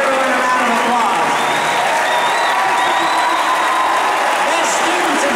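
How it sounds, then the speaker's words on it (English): Loud, steady crowd applause with cheering and whoops from fans at a celebration, sustained throughout without a break and dense with overlapping claps. "give everyone a round of applause"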